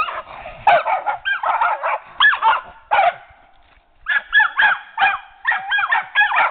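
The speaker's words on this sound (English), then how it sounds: "What I think is funny is these puppies out here worrying with this, with Clover's over there wanting a tree." Puppies whimper and yip in quick bursts, high whiny cries mixed with short barks, close by and loud, with a brief lull midway.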